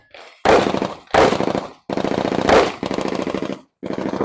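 A magazine fired from an Apollo 11 Compact at a shooting range rattles off in about five loud, rapid strings of shots separated by short pauses, close up and with no talking.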